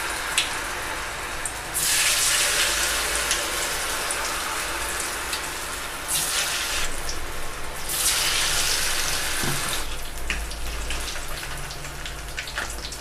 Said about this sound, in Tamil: இப்போ நம்ம எண்ணெயில் போட்டு எடுத்துக்கலாம்